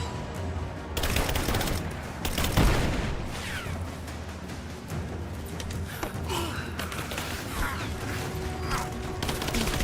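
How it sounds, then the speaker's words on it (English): Sustained gunfire and explosive thumps from a firefight in the Rise of the Tomb Raider video game, bursts layered over a dense continuous background with a heavy impact near the start. "Laying down covering fire!"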